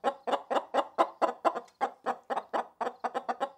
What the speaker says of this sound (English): Oh, there's a chicken! Hey! Hey! It's a chicken!